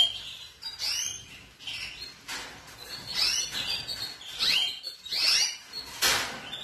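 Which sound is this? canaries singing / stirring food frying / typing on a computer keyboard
canaries singing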